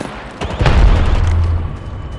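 Grenade explosion in Apex Legends Mobile, a single loud close blast that hits sharply and rolls into a deep rumbling tail before fading.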